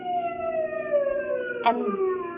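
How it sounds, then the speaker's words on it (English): A distant siren wails as a radio drama sound effect for a night drive near a state prison, its rising and falling tone steady over a low background bed, with a brief brighter burst midway. "then I heard that siren in the distance"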